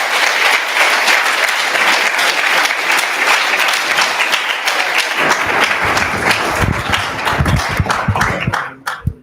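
An audience gives loud, sustained applause welcoming speaker Ken Schoolland at a university lecture event, dense clapping filling the room before tapering off sharply at the end.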